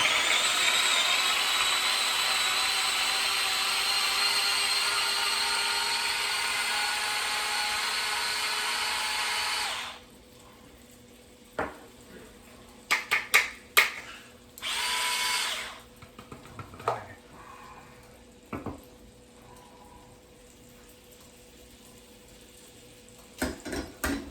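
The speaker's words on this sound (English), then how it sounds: "so I got this neat little handheld chopper." A handheld chopper chopping garlic cloves whirs steadily for several seconds, then stops, followed by scattered clicks and short bursts of chopping and clattering close by.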